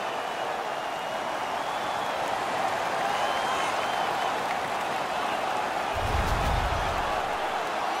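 Home crowd roaring after a fight in the NHL 17 hockey video game, a dense, steady wall of cheering and noise filling the arena, with a brief low rumble near the end.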